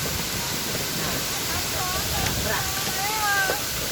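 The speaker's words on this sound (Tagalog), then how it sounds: "Mo na ni siya ang falls." Tomalistis Falls on Biliran Island roars as a steady, loud, broadband rush of falling water, with people talking faintly over it.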